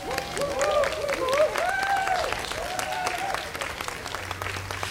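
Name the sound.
audience applause for children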